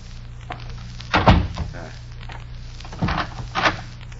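A door is shut and locked as a radio drama sound effect, with two solid thunks about two seconds apart over a steady background hum.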